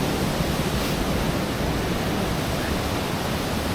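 Waterfall near Dolwyddelan Castle, fed off the mountains, a steady broadband rushing roar of falling water, constant and full with no breaks or voices.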